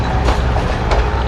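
A slow Galle–Colombo local train in Sri Lanka rolls past nearby, a brief burst of heavy rumbling with rhythmic wheel clatter over the rails.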